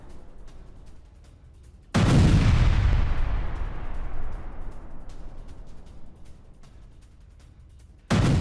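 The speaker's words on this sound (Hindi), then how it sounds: "आईडीएफ ने बदला लेते हुए हिजबुल्लाह के ठिकानों को टारगेट किया है, जिसमें बमबारी की तस्वीरें सामने आई हैं।" Heavy bombardment strike on Hezbollah positions, a sudden loud deep blast that rolls out and slowly fades over several seconds, followed by a second abrupt boom at the end, over low background rumble.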